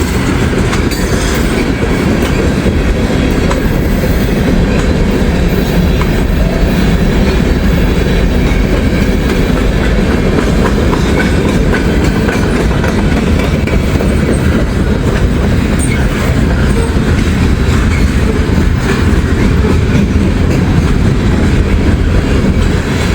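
A freight train with a DPU locomotive rolls past close by, a loud, continuous roar of wheels and rail noise with rhythmic clickety-clack that fills the whole span.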